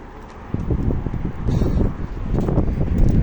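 Gusty wind buffets the microphone in rough, uneven bursts, with low rumbling thumps and a faint rustle.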